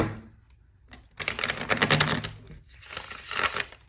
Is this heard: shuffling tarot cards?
yes